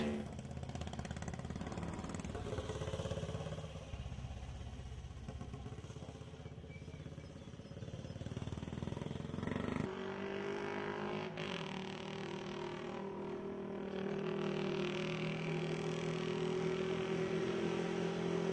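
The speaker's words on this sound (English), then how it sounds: "the bikes swing left down the old finishing straight" Motorcycles ride down the old finishing straight at Brooklands during centenary activities, a steady mid-distance engine drone with shifting tones as bikes pass.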